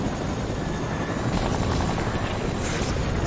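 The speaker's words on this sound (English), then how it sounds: "can we also land the chopper?" Helicopter flying in the video game Fortnite, a steady continuous rotor whir and engine drone, fairly loud and unbroken throughout with no talking.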